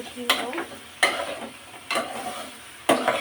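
Beans and tomatoes sauté in a pan, with four sharp spatula scrapes and stirs over a soft background sizzle, close by and fairly loud.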